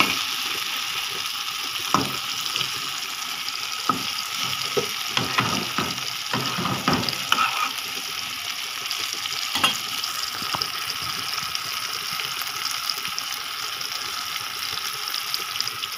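Eggplant frying in a pan gives a continuous close sizzle with scattered crackles and a few clinks and scrapes of stirring, steady throughout and without voices.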